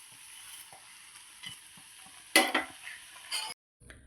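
Bread being stirred into hot sugar syrup for bread halwa: soft bubbling sizzle with a louder scraping stir burst midway, heard close with no voices, ending abruptly in silence.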